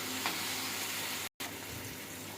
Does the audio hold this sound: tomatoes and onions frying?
yes